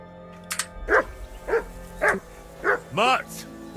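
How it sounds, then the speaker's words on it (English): Mutt, a dog in the video game Kingdom Come Deliverance 2, barks five times in an evenly spaced series of loud, near barks, with a faint game background hum underneath. "That barking was a pain in the ass."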